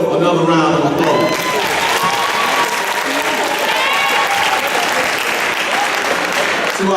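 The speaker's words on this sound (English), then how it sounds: "Please give these colleagues of yours, these peers of yours, another round of applause." Another round of applause for students at a signing day event, loud and sustained crowd clapping throughout with some cheering and voices mixed in near the start.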